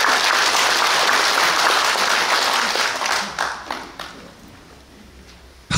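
An audience claps and applauds at a political party debate held for the party's second founding anniversary; loud, dense applause for about three seconds, then thinning into scattered claps and fading out.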